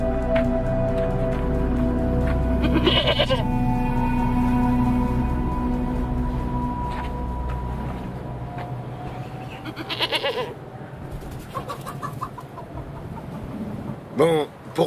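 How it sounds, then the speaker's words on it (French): A goat bleats in a few wavering calls over a steady, droning background, followed by scattered rustling and brief clatter toward the end. "nous vous offrons cette chèvre en signe de respect et d'entente cordiale"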